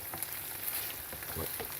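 Pasta sizzles in a hot pan over a big burner with large flames, a steady crackling fry with a few sharper pops, fairly close and without talk.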